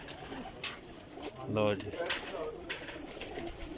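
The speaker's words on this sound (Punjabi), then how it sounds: "ਇਹ ਉਹ ਕਬੂਤਰ ਹੈ ਜੀ" Racing pigeons in a loft of a Faisalabad pigeon-flying club give one clear, close coo midway, set against soft background noise while someone speaks briefly.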